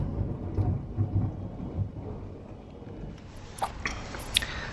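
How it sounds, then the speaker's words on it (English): Rumbling thunder rolls through a steady rain, with low booms in the first half and sharper crackles and drops later on, no voices. "The storm is here."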